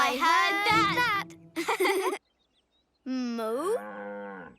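Cartoon cows moo in Thomas & Friends: All Engines Go!, a few drawn-out mooing calls separated by a short silence, clear and close, with voices speaking between them.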